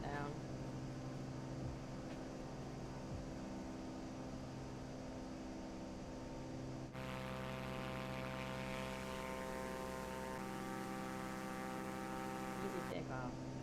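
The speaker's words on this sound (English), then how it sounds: "Easy takeoff." An aircraft takes off in Microsoft Flight Simulator 2024, a steady droning engine and propeller hum that shifts in tone midway and holds at a constant level, with someone talking faintly over it.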